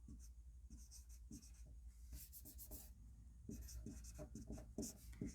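Chalk or marker scratching across a board in a classroom maths lesson, steady stroke after stroke of rubbing and tapping, fairly faint and close, with no talk over it.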